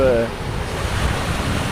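Steady wind roar and crashing surf wash over a Playa del Carmen beach on a very windy day with a north wind and cold front, broadband and continuous, with a brief tonal hint at the start.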